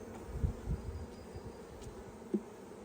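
Honey bees at an opened hive make a soft, continuous hum, with a few louder passes as single bees fly close by.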